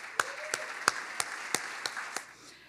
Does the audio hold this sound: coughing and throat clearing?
no